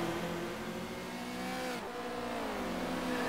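Race car engine in a DTM racing video game at the Hungaroring, a steady loud engine drone with rising and falling harmonic tones as cars accelerate and shift, a brief dip partway through, no talk.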